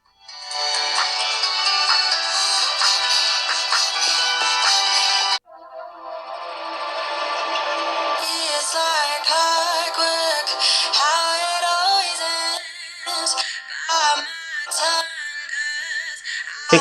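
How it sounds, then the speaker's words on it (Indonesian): NCS music plays through the single speaker of a Samsung Galaxy A07 phone, a thin, bright electronic track heard close with no bass, briefly cutting out and then resuming with melodic synth lines. "Oke, kita masuk ke channel NCS ya, biar nggak kena copyright. Kita coba dengerin musiknya."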